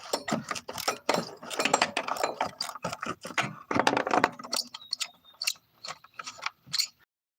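A ratchet wrench loosening a bolt makes bursts of rapid, close mechanical clicking with short pauses between strokes.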